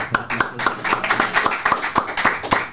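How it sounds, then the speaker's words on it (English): Rhythmic clapping from a group of fans at a home-opener American football game, steady repeated beats in a unison pattern, loud and close, with no talk over it. "let's clap it up"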